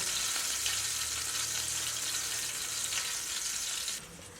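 Lamb kidneys sizzling on a barbecue grill, a steady, fairly loud crackling hiss that drops off abruptly near the end, with no one speaking.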